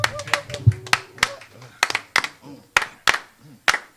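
Sharp hand claps from an audience keeping time with a song, roughly evenly spaced bursts while a voice talks over the first part.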